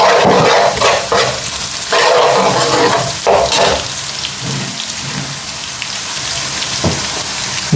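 Cumin seeds and curry leaves sizzle and crackle in hot oil for a chana dal tadka, a dense, close spitting fry with brief stirring clatter, no voices over it.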